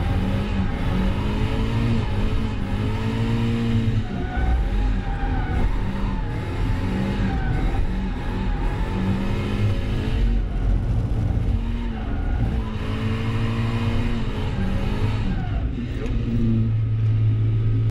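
A Mazda Miata drift car on a track, its engine droning loud and continuous with rising and falling revs through gear changes and tire noise, close to the car throughout.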